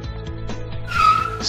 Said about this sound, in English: Sports car.